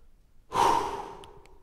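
A single deep breath from the belly and diaphragm, taken as a relaxation exercise, rushes out in one close, strong exhale after a quiet pause, then fades away slowly.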